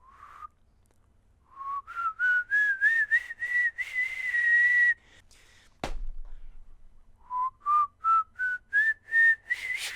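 A person whistling in imitation of a ghost's warning whistle, rising stepped phrases of short clear notes played twice, separated by a sharp knock, close and loud.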